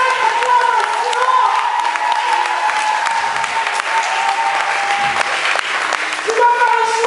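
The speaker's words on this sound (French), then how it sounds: "acclame le Seigneur, une sainte acclamation" A church congregation applauds and cheers the Lord, loud sustained clapping with shouts and a held musical tone beneath, filling the room without pause.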